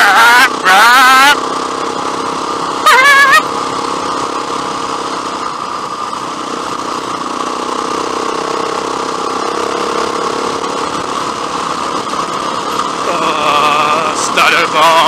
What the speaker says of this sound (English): This bike is so loud though.